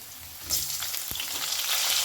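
Chopped tomato tipped into a pan of frying potatoes, with a steady sizzle that swells as the pieces hit the hot oil, close and continuous with a brief clunk, no talk.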